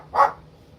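A dog lets out one short, loud bark indoors in a home kitchen, then falls quiet.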